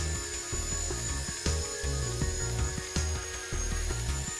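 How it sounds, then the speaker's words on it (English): A WL Tech V911S micro RC helicopter flies nearby, its small rotor and motor giving a steady high buzzing whine with rhythmic pulsing and brief surges in pitch as it maneuvers, heard alone without talk. "It's a great little helicopter"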